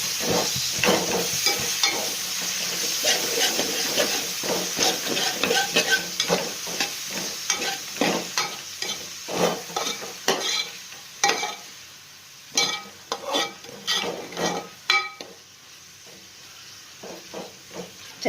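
Chopped tomato stirred and sautéing in a pan for a Kerala chicken mappas, a steady close sizzle broken by repeated scraping stirs, with no talking.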